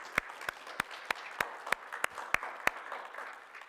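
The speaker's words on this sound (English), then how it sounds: "So let's give him a pre-applause." Sparse, evenly spaced claps ring out in a congregation, each sharp hit standing apart above a soft murmur of scattered clapping, about three per second.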